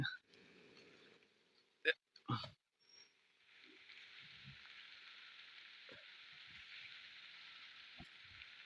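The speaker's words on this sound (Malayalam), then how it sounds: "മഴ പെയ്യുന്നുണ്ട്" Rain falling outdoors: after a few brief knocks and a burst of voices, a steady, even hiss of rainfall settles in and continues to the end at moderate loudness.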